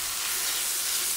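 Bacon and mushrooms fry in a Dutch oven, giving off a continuous, even sizzle and hiss with no break and no talking.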